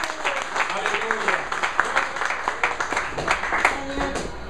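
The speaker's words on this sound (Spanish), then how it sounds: "Denle un aplauso fuerte a Dios." A church congregation claps steadily while voices carry over the applause, with a faint steady tone running underneath.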